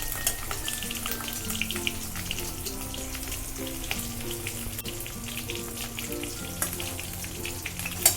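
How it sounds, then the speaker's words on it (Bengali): Prawns frying in hot oil in a pan, a steady sizzling hiss with occasional crackles that holds at an even level for the whole stretch, with no voices. "চিংড়ি মাছগুলো দিয়ে আমি এগুলোকে ভেজে নেব।"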